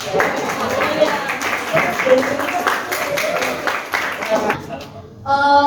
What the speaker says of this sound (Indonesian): Ayo semua tepuk tangan.